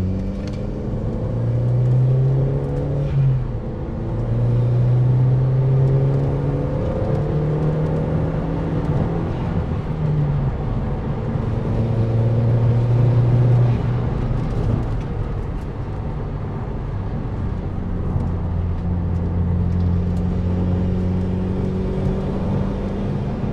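Audi car with bucket seats accelerating through tight bends, the engine note climbing and easing in repeated sweeps over a constant road rumble, heard from inside the cabin with no talking.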